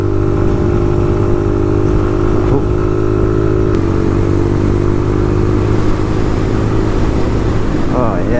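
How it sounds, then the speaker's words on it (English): A Suzuki VanVan motorcycle labours up a steep hill on a Scottish coastal road, its engine droning loud and continuous under strain with clattering mechanical noise and wind throughout. "Bike's struggling up here."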